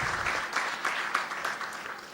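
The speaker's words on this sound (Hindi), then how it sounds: "तालियां बजाई जाए।" Audience applause at a college lecture event in India, a steady moderate clapping patter from a crowd heard from some distance, brief and without talk.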